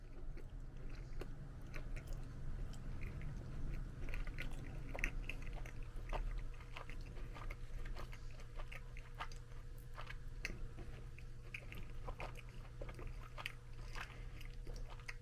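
Someone chews a cheap rice-cooker lunch with beans, the soft, wet mastication continuing steadily at close range for the whole stretch with no talking.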